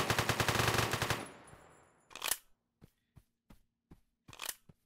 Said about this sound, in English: They're shooting up at you.